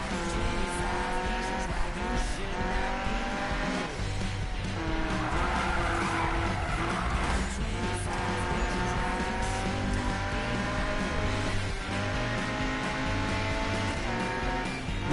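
A Mazda MX-5 drifts with its engine revving hard and tires squealing in long, continuous screeches, the sound loud and close throughout with no talking.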